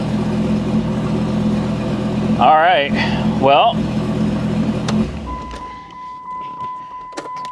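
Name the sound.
Dodge Viper engine running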